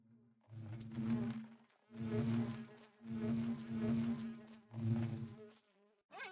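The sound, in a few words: bees buzzing in Minecraft modpack ATM10, video game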